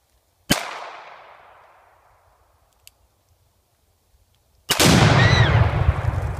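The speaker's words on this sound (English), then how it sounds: "Here's Eric shooting Tannerite" A rifle shot cracks once, then a few seconds later a Tannerite explosive target detonates with a loud, sustained boom that rumbles on; the blast is close and the clip holds no voices.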